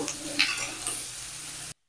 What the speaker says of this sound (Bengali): ঝিঙেটা একটু নেড়ে চেড়ে আমি ভেজে নেব